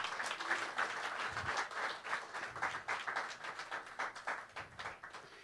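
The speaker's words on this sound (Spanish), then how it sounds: "Dale un aplauso al Señor" A church congregation applauds during a Spanish-language worship service, dense continuous clapping from many hands filling the room, loud and steady throughout with only faint voices underneath.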